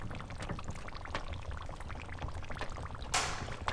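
Dry ice bubbles inside a giant balloon in a DIY science experiment, giving soft irregular gurgles and pops under quiet room noise, with a brief louder rush of gas near the end.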